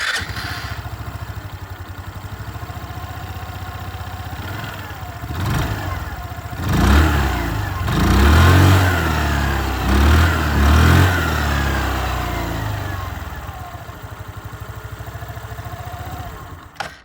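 A 2026 Hero Xoom 110 scooter engine idles with a soft exhaust putter, then revs up in several short bursts before settling back to idle.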